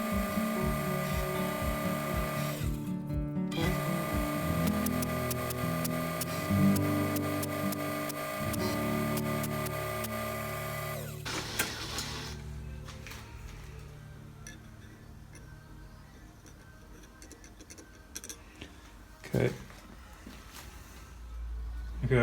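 A lathe cuts a couple of millimetres off a steel sleeve-puller part for a Ferguson TED20 tractor, steady machining whir with rhythmic ticking early on, then a quieter hum with scattered clicks and knocks.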